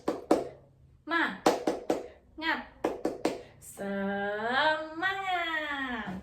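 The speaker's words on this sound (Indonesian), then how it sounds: "kita mulai dengan tepuk semangat terlebih dahulu agar kita lebih bersemangat" A spirit-clap chant in an elementary school micro-teaching civics lesson. Sharp rhythmic handclaps come in short groups, then end in a long, loud drawn-out voiced call.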